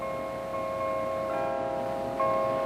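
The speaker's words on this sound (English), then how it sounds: "just a few steps from Times Square, the bells of St. Malachy's." Steady church bell tones from St. Malachy's near Times Square, New York, ring out with a long sustained resonance, one fresh strike landing near the end, heard at a moderate distance.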